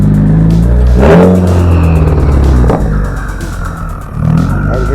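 A car arriving at a car show in Orcutt revs and roars loudly up close, with repeated rising engine surges as it cruises in.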